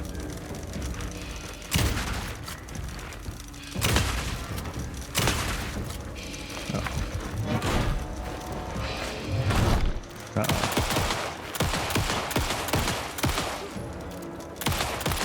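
Dense gunfire and booming impacts in the video game Alan Wake 2, loud overlapping bursts of shots and thuds filling the scene with brief lulls between volleys.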